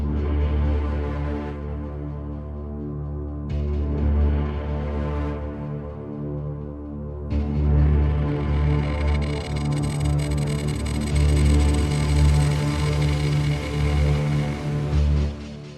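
A Native Instruments Low End Strings patch used as a riser, a dense, dark sustained string texture that builds in layers and swells into a bright, noisy peak, loud and alone.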